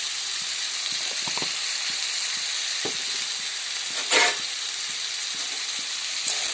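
Potatoes seasoned with salt and turmeric fry in hot oil, a steady close hiss of sizzling broken by a few soft stirring knocks and one louder scrape.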